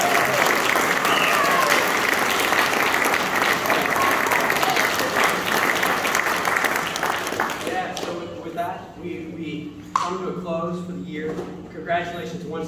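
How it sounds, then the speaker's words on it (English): Sustained applause from a crowd at a student event, loud and dense for several seconds before thinning into scattered claps as a voice begins speaking over the fading clapping. "So let's give them a round of applause."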